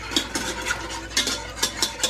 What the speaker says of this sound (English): I want to stir it in.